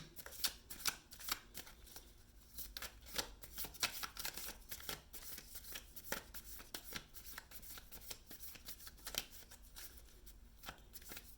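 A tarot deck being shuffled by hand, with rapid, crisp riffling card flutters in repeated bursts, close and fairly quiet with no talking.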